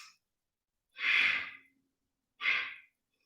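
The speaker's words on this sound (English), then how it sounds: "Make sure you breathe. Exhale, exhale, exhale," Two slow, breathy exhalations during a beginner yoga exercise for back pain and core strength, close and soft, separated by a pause of silence.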